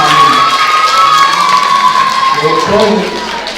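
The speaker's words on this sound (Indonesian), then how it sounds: "tepuk tangan untuk penglisir bersama kami" A crowd at a Balinese bondres comedy performance in a village hall cheers and shouts over applause, a loud mass of voices with children's shrieks that eases slightly toward the end.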